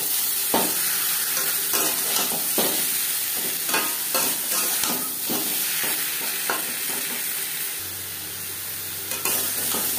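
Pieces of hog plum frying in a pan with turmeric powder and salt for chutney, giving a continuous close sizzle broken by regular sharp scraping stirs.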